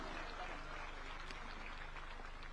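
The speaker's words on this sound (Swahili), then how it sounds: "Tuwapige makofi tafadhali, Moi Mbiruri." Audience applause at a State House award ceremony in Nakuru, Kenya, as a trophy goes to a winning play; steady, continuous clapping from a crowd, fairly distant and faint throughout.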